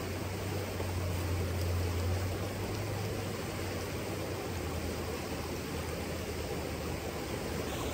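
A trout stream rushing over rapids, a dense steady roar of moving water heard close and unbroken, with a faint low hum underneath and no voices.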